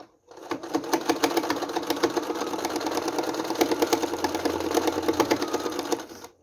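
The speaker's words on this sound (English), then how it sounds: "I will stitch over this on the fabric itself" A sewing machine runs steadily for about six seconds, its needle stitching over fabric to tack down loose fibres in a rapid, even mechanical patter, close and alone with no talk.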